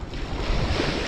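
Open sea waves wash steadily near a fishport, a loud, continuous broadband roar of surf mixed with wind buffeting the microphone, with no voices.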